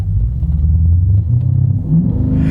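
A car engine idles with a deep, loud, throaty rumble from a racing exhaust, the low growl pulsing unevenly up close.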